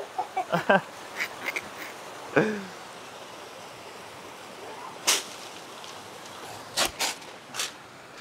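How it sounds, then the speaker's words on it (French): Birds at a beach call in scattered bursts, several quick chirps early, a louder squawk mid-way, and a few sharp calls later over a steady background hiss. "Ah oui, c'est des oiseaux. T'as cru que c'était des gens?"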